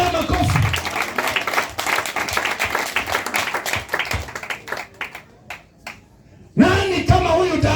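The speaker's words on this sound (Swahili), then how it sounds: "kama yuko chapia ya makofi" A church congregation claps hands in dense rapid applause that thins out toward the end, then a voice cuts in loudly near the close.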